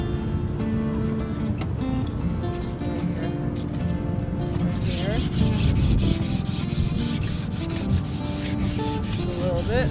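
Hand sanding of small spots on a wooden piece before finish goes on, a steady close scratchy rubbing that continues throughout, loud and unbroken with a background hum.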